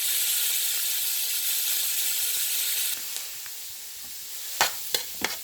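Onion and garlic sizzle steadily in a hot pan where ham was just cooked for arroz con gandules. The hiss is bright and continuous, then eases and thins out as a few soft stirring clinks come through near the end.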